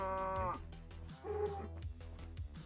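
Minecraft cows moo in the video game, with two drawn-out low moos separated by a short gap and close game sounds underneath.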